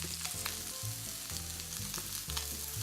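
Fairy tale eggplants are laid face down to sauté in a hot pan, giving a steady close sizzle over a low tonal musical bed.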